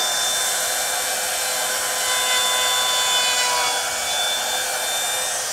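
A handheld wood trimmer router cuts into wood with a continuous high, rasping whine and rushing noise, close and loud, the pitch wavering slightly as the bit moves along the workpiece.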